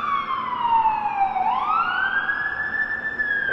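A fire engine siren on King Street in downtown Toronto sounds loud and close, sweeping down in pitch and then climbing back up in one long wail over street noise.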